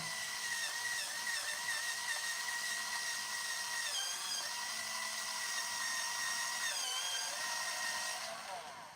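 Electric pencil sharpener grinding a coloring pencil, a continuous high whine that holds steady for several seconds with slight pitch shifts before tapering off at the end.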